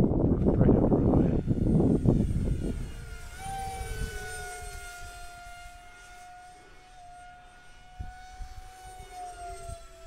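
A Habu 50mm radio-controlled jet plane flying, a whooshing burst close by that fades into a thin high whine as it moves away into the distance, without talking.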